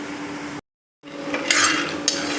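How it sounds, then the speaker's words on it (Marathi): Peanuts are stirred and scraped as they dry-roast in a pan, with light rattling and clinking of the nuts and a brief silent gap. "तर मी शेंगदाणे भाजते तुम्हाला दाखवते"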